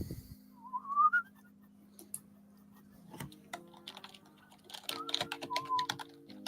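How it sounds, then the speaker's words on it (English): A person whistles a short rising tune near the start and again toward the end, fairly faint, over a steady hum with scattered keyboard-like clicks and taps in a quiet room. "Finally, I can whistle again."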